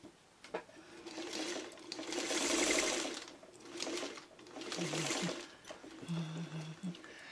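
A hand-cranked sewing machine stitching quilt pieces together, its rapid mechanical clatter running in short bursts close by, with small pauses and a light creak between runs.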